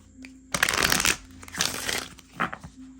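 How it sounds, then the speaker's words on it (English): A deck of tarot cards shuffled by hand, giving crisp riffling bursts in two or three loud rapid runs, close to the listener with no talk. "That shuffles nicely. I love when it shuffles good at the first try."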